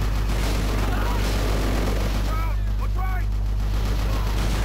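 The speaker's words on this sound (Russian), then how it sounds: "Просто с пулемета броневик расстрелял." Machine gun fire shredding armored cars in Call of Duty: Roads to Victory, a dense, continuous roar of gunfire and blasts filling the whole stretch, loud and harsh with no pause.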